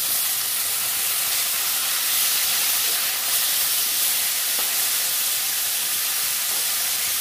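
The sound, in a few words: rohu fish frying in a pan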